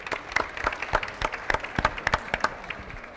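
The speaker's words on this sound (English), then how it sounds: "So another round of applause, even though they're not here." Scattered applause from a small audience at a 2012 Charles Dickens tribute event, distinct individual claps with irregular rhythm, moderately close, no voices.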